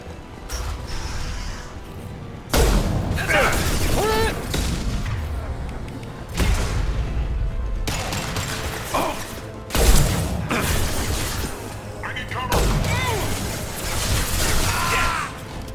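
Repeated heavy explosions and booming blasts in Mass Effect 2 combat, loud bursts arriving every few seconds amid ongoing gunfire and clatter, with faint voices under the action.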